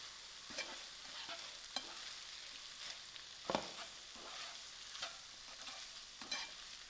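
Paneer filling for samosas stirred in a pan over low heat: a soft, steady sizzle with scattered scrapes and clicks of the spoon, fairly quiet, no talking.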